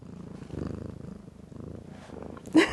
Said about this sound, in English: I'm sure you could probably hear him purring like crazy.